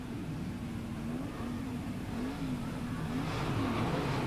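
Stock cars restarting a race on a dirt track at a 1999 Auckland teams championship, engines revving in a steady mid-distance roar that rises slightly toward the end.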